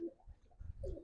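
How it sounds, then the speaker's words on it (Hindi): Pigeons kept by a village flock give a short, soft, low cooing phrase close by, two muffled coos in about a second with no talk. "ये सारे कबूतर हैं"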